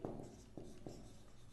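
Marker or chalk writing on a classroom board during a photosynthesis lesson, with a few soft strokes and taps at a steady pace over a faint room hum.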